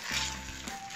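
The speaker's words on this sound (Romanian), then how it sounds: "Adăugăm ghebele. La fel, împreună cu usturoiul, le călim aproximativ 2 minute." Honey mushrooms sautéing with garlic in a hot pan give a steady, close sizzle with a low hum underneath, continuous through the short moment.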